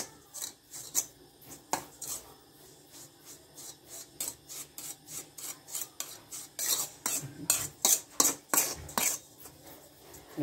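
Semolina and bread yeast are hand-mixed in a bowl, giving repeated scraping, rubbing strokes that grow louder and more rhythmic toward the end, close up with no talking.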